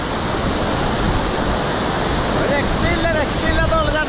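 Punnayar waterfall in Idukki, Kerala, gives a dense, continuous roar of falling water, loud and unbroken, with a few thin chirping tones rising over it near the end.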